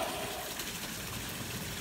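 Water pours steadily from a fountain or waterfall feature at a residential swimming pool, a continuous broadband splashing rush with no pauses, close and fairly loud.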